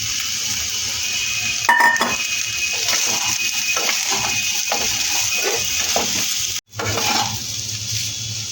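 Soybeans being mixed with sugar in a pot for soybean biryani: close metallic scraping and clinking of a spoon against the pot over a soft background sizzle, with a brief dropout near the end.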